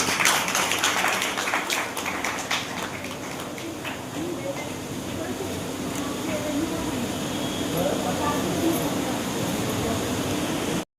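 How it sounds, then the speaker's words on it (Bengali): A crowd at a Rakhi Bandhan ceremony in Memari claps for a few seconds at the start, then the applause fades into room noise with faint voices. "সকলে একবার করতালি দেবেন"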